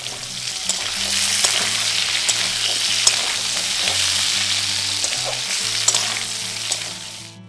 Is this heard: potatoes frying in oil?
yes